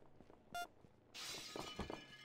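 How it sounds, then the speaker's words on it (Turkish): A window shatters in the heist game Perfect Heist 2, a brief bright crash of breaking glass followed by tinkling shards; a short clink comes just before, and the whole thing is fairly quiet and without talk. "Cam kırdı."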